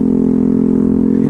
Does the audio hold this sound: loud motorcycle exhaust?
yes